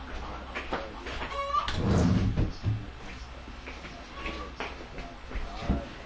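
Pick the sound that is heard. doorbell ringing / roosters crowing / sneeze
roosters crowing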